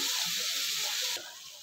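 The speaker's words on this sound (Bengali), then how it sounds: "এবার কড়াতে প্রথমে বাটার দিচ্ছি" Butter melts in a wok for Bombay pav bhaji, giving off a steady, close hiss of sizzling that softens slightly near the end.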